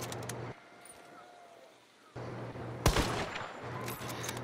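Gunfire in Hunt: Showdown: a sharp, loud shot near the middle followed by a burst of crackling shots, with quieter background rumble and a short near-silent gap before it.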